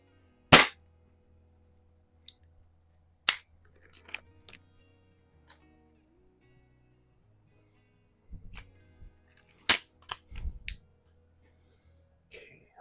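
An Airforce International Indian target air pistol fires a few sharp, snappy shots spaced well apart against near silence, with light clicks and handling noises between them and brief bits of talk.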